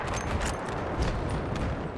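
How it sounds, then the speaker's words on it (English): Dense, continuous gunfire in Battlefield 3 multiplayer, bursts of shots and distant explosions layered into a steady loud battle din with no clear gaps. "I'm just firing there because I thought a sniper was there"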